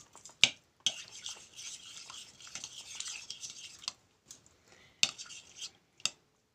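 Egg yolks, salt and sour cream being stirred together in a bowl, with a spoon or whisk scraping and clinking against the sides in irregular close bursts and a few sharper taps.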